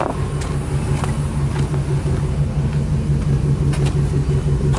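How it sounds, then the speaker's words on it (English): A box truck's engine idles steadily close by, a constant low droning rumble with an even hum and no revving, heard alone with occasional faint clicks. "I got the box truck running today."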